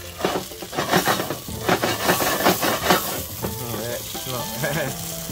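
A rocket stove burning hard under freshly caught New Zealand kahawai fish cooking outdoors, with loud crackling, rhythmic scraping and sizzling bursts close by, then a brief higher whistling tone near the end.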